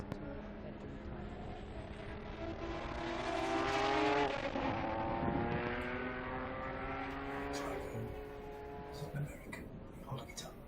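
Porsche race car at the Estoril Classics historic race, its engine roaring loudly and building to a peak as it passes near, with harmonic engine whine, then fading slightly while other cars continue in the background.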